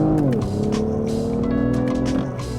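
A Lexus ES sedan accelerates hard under paddle-shifted manual control, the engine note climbing steadily in pitch with a brief dip at a gear change, heard from inside the cabin.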